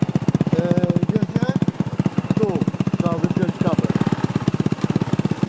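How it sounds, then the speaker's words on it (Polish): Scooter engine with a welded, modified exhaust runs close up in a rapid, choppy putter, revving up and down in uneven bursts while people talk over it. "A jak ci się podoba ten wydech?"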